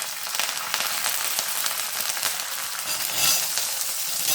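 Curry leaves, dried red chillies and chana dal sizzle in hot oil for a small-onion chutney, making a steady, dense crackling hiss with bursts of spattering, fairly close and uninterrupted by speech.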